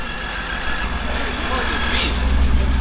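A supercharged BMW engine idles nearby at its first start-up, a steady low rumble running under conversation from the people standing around it.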